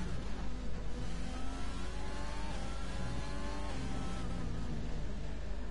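A McLaren Formula car in a racing video game sweeps past with a buzzing engine whine that rises and falls in pitch through repeated gear changes, heard alone at moderate volume.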